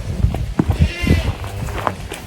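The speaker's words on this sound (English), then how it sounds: "Y'all can hear the goats and the calves." Goats and calves bleat on a farm on a breezy day, several short overlapping calls close by mixed with rustling, clunking movement.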